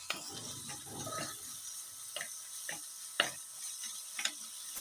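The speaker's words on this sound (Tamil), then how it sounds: "இப்போது இஞ்சி பூண்டு பேஸ்ட்டை போட்டு நல்லா பச்சை வாசனை போகிற வரைக்கும்" Ginger garlic paste fries in a pan for a home-style mutton curry, a soft crackling sizzle broken by several sharp scraping strokes of a spoon stirring, fairly close and without talk.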